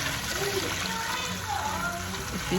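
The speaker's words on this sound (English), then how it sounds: "then you take out the water, like I'm taking out right now" Soaking water poured off fermented corn while making pap, a soft continuous trickle and splash under someone speaking throughout.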